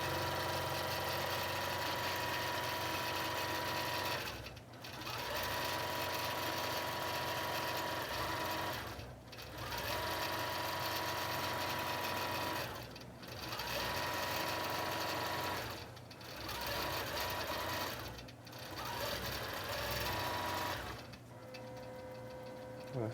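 A computerized quilting machine stitches an art quilt with a steady, even mechanical whir and ticking needle rhythm, running continuously with brief dips every few seconds, moderately quiet and alone.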